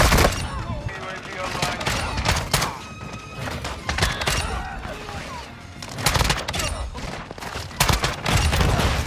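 Rapid shotgun blasts from the KV Broadside in Modern Warfare 2, fired quickly in a dense, chaotic firefight with overlapping gunfire and impacts throughout, while a player talks over the action.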